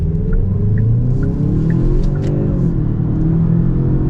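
A 2023 Genesis G70 2.0t runs with a steady engine drone and a faint, thin whine riding on top, like a supercharger, constant and close inside the cabin.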